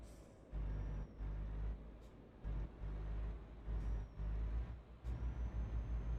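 A truck in Euro Truck Simulator 2 drones with a steady low engine rumble while several short hissing air-brake releases cut in and out at regular intervals, loud and close, with no talking.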